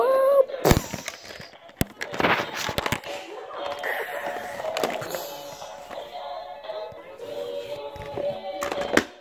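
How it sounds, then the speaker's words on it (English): A cartoon monster blows up with sharp bursting bangs and crackling, popping explosion effects scattered through the scene, alongside a speaking voice. "The monster blew up into smithereens."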